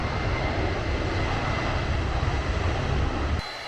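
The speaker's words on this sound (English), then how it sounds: "here's our 767 arriving from Tokyo" A Japan Airlines Boeing 767-300 arriving at Hiroshima Airport from Tokyo gives a steady, broadband engine roar, loud and continuous, before cutting off abruptly near the end.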